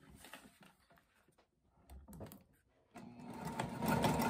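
A sewing machine stitching a snap pouch, with its motor running in short bursts and then a steadier, louder run of stitching close by, no talk.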